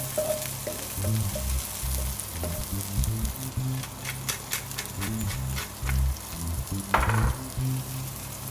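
Garlic, lemongrass stalks and small onions frying in oil, a steady sizzle with bursts of crackling and a few stirring knocks, alongside low rumbling noises in the background.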